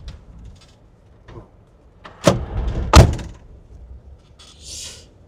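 A 1969 Cadillac De Ville car door is shut with two solid thunks close together, preceded by faint rustling and followed by a brief soft hiss.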